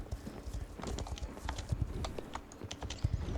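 Horse hooves clip-clop in a steady quick rhythm in a horse-riding video game, moderately loud and continuous, with faint game ambience underneath.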